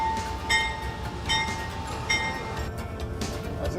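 A train rolls along the track, a low rumble under repeated clicking and squealing bursts at a moderate distance, with no voices.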